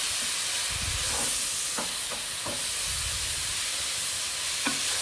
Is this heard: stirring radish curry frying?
yes